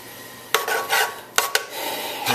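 A spoon scrapes and knocks against a pot while rice dressing is stirred, a few sharp metallic clinks between softer rubbing scrapes, close and alone.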